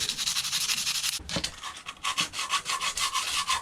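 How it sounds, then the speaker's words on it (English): Sandpaper rubs corrosion off a Yanmar marine engine plate in close, rhythmic back-and-forth strokes after a brief pause. "It's just a bit of sandpaper. Sand it clean."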